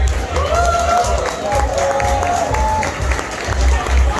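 An audience applauds and cheers under a loud voice at a tribute concert in San Juan, Puerto Rico; warbling tones float over the steady clapping.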